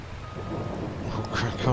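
Rain falling steadily with low rumbling thunder in a farming simulation game, a broad continuous wash that swells toward the end, with faint game tones in the background.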